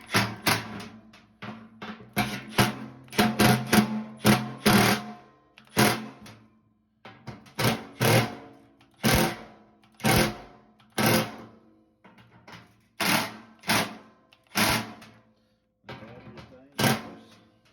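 A power tool tightens a blower motor part in short repeated bursts, each a loud whirring buzz separated by brief pauses, close by and regular, with quiet handling noises between.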